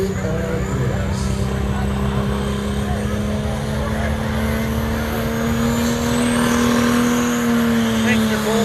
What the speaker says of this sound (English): If you've never seen a diesel pickup, get a load of this.